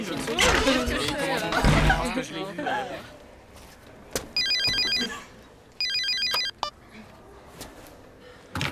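Chatter and laughter fade, then an electronic phone ringtone sounds in two short bursts of rapid beeping tones, fairly close.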